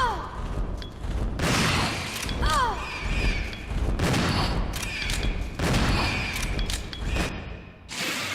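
Shotgun blasts aimed at a giant bat in the Resident Evil 0 video game, a series of loud booming shots spread across several seconds amid game effects and creature screeches.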